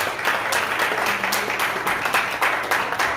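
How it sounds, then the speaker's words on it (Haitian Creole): Church congregation clapping during a service, a sustained round of many hands with a loosely pulsing rhythm, mid-distance and uninterrupted by voices. "Nous applaudissons."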